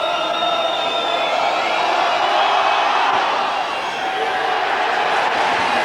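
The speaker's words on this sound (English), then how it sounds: "And the roar from the crowd tells you that's successful" Crowd roar at a 1992 Leeds versus Wigan rugby league match after a successful goal kick, a dense, sustained wash of noise holding steady through the stretch with a commentator's voice faintly underneath.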